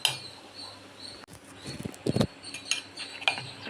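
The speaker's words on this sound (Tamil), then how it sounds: "நல்லா கலக்கிக்கலாம்." Batter for aloo paratha is stirred by hand in a bowl nearby, giving soft wet scraping with a few sharp utensil clinks against the rim, with no voices.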